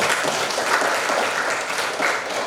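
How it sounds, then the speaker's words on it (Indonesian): A classroom of students claps together in a short, dense burst of applause, steady and fairly loud, with no talking over it. "kita beri tepuk tangan dulu."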